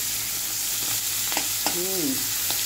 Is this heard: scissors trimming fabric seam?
no